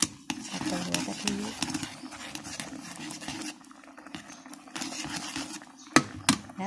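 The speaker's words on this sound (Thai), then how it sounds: "ใส่พริกแกงลงไปผัดนะคะผัดกับหัวกะทินะ" Curry chili paste stir-fried with coconut cream in a pan makes repeated scraping and clinking stirring sounds up close, with a voice speaking over parts of it.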